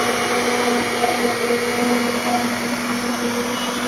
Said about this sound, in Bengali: পরে আমাদের মিক্স করে নিতে হবে ব্লেন্ডারে, ভালো মতো ব্লেন্ড করে নিতে হবে।